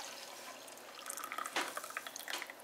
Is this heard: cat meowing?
no